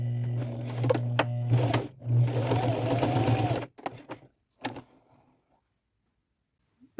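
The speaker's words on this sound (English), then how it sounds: "I'm going to go to my machine, and just right across the center, I'm just going to do a straight stitch with burgundy thread" Sewing machine running a straight stitch across the center of a chenille robe in burgundy thread, a steady close mechanical whir for several seconds that stops abruptly, followed by a couple of brief clicks and then near silence.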